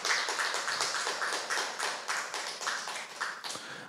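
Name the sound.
audience clapping hands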